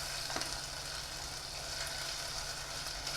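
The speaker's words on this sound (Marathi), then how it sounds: "आणि आता आपण हे ठेचा घालून घेऊयात ठेचाही छान आपण परतून घ्यायचा आहे" Crushed green chili thecha sautéing in a traditional clay pot, giving a steady, dense sizzle and crackle that runs unbroken throughout with no voices.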